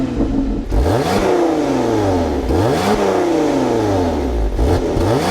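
Lotus Emira supercharged V6 with titanium exhaust finishers revs repeatedly, loud close blips that rise and fall in steady succession over a low idle rumble, with no talk.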